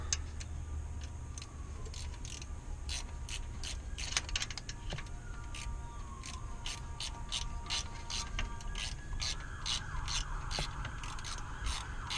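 A ratchet wrench loosens a bolt on a 12v Cummins starter, its rapid, steady clicking running through the clip close up over a low engine-bay hum.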